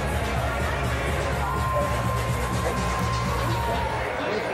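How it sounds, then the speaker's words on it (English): Large Saturday evening crowd inside Chickies and Pete's in Philadelphia, a dense steady babble of many voices with indistinct hubbub throughout. "large crowd on a Saturday evening"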